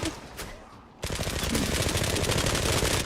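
Gunfire from a pump shotgun upgraded to +7 in the online shooter Zula starts quietly, then becomes a loud, dense, continuous volley of rapid shots.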